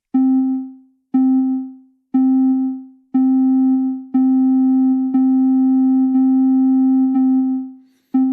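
A steady electronic tone from a Euclidean sequencer pulses in a regular beat, each note lengthening as the gate is changed until they merge into one sustained drone, then shortening again into separate pulses.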